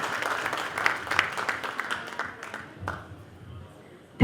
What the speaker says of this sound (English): A big round of applause for all the supporters of Hindu Society of Minnesota.